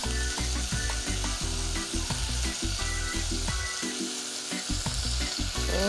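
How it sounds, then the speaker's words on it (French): Shrimp sautéing in a saucepan for spaghetti with aged rum, browning against the bottom of the pan; a loud, steady sizzle broken by repeated scraping stirs, close up with no voices. "Nos crevettes commencent déjà à colorer le fond de la casserole."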